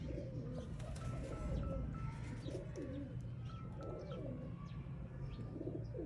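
A pet pigeon coos in a series of low, rolling throaty calls repeating steadily at close range, with faint chirps from other birds in the background.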